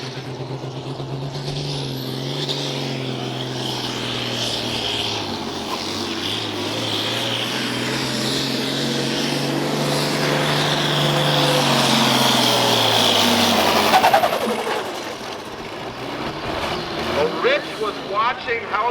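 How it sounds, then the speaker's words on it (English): A pulling tractor roars under heavy load during a truck and tractor pull at The BARn in Platteville. The loud engine drone rises steadily in pitch, peaks, then cuts off sharply, and an announcer talks over the end. "Watching how these tractors have been running all night long"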